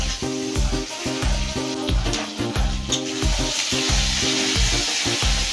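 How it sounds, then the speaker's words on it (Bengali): Ginger, garlic and tomato fry in a pan with a continuous bright sizzle heard beneath loud rhythmic background music. "আদা রসুনের টমেটোটাকে বেশ কিছুক্ষণ সময় ধরে ভেজে নিতে হবে, যতক্ষণ না আদা রসুনের কাঁচা গন্ধ চলে যায়।"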